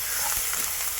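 Green chillies, curry leaves and ginger garlic paste sizzle steadily in hot oil for a stuffed brinjal curry tempering, a dense continuous frying hiss with no talking.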